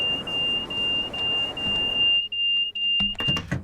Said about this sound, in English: that is our vigilance alarm going off.